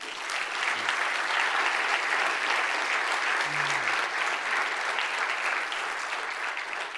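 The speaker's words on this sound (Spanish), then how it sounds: "Denle un aplauso al Señor" Congregation applauding in a church service, a steady even wash of clapping held at moderate level throughout with a faint voice briefly audible underneath.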